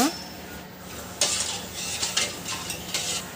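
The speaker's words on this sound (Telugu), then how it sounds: "నూనె కొద్దిగా వేడయ్యాక జాముల్ని సిమ్లోనే పెట్టేసి వేయించుకోవాలన్నమాట." Gulab jamun fry in hot oil on a low flame with a soft sizzle beneath clattering metal utensil scrapes and stirring taps that come in bursts, near and fairly loud.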